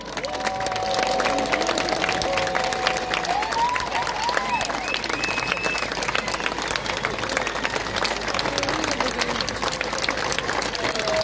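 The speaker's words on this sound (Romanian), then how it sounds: "Să primiți cu aplauze pe Cristian Răileanu!" An audience at a cycling race award ceremony in Sibiu claps steadily and loudly throughout, with a few cheers and some talk mixed in.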